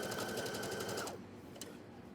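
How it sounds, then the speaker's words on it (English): A sewing machine stitches a straight seam on a pair of pants in a rapid, steady mechanical rhythm for about a second, then stops, leaving faint room noise. "it becomes a straight line on the sewing machine."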